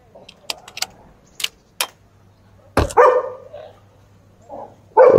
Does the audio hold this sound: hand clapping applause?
no